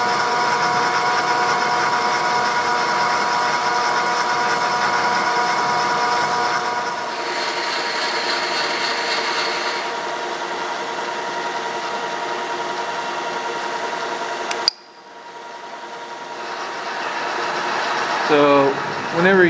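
Continuous machining drone from a metal mill cutting with power feed engaged on a toolroom vise V-block, steady and close, with a brief drop near the end and short voices toward the finish.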